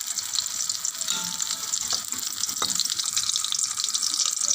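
Prawn pakoras fry in hot oil with a steady, close bubbling sizzle that stays dense and even throughout, with no talking.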